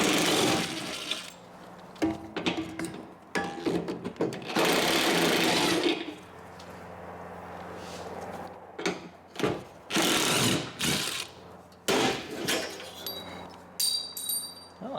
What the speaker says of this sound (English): we can grab a 9/16 socket and remove the nuts holding it.